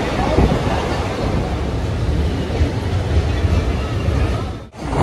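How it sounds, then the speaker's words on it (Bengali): A train rolls into Santiniketan station, its broad rumbling roar steady and fairly close, with wind buffeting the microphone and a brief dropout near the end. "একদম এক্স্যাক্ট 3:15 ট্রেন আমাদের শান্তিনিকেতনে ঢুকে পড়েছে"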